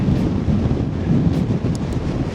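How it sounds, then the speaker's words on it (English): Strong wind gusting across an exposed mountain ridge on a Thunder Mountain mountain-bike trail in Utah near Bryce, a steady loud low roar buffeting the microphone with no voices. "I don't know if you can hear the wind, but it is blowing."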